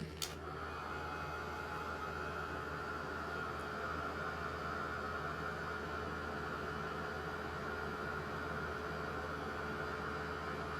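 A hair dryer blows steadily on a watercolour painting of mistletoe and berries, a constant loud broadband whoosh with a low hum underneath, running unbroken throughout after a brief click at the start.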